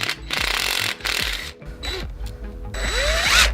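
Impact wrench working a nut on a locked-up Suzuki RM250 motor, rattling in several bursts with mechanical ratcheting and clanks between them, close and fairly loud.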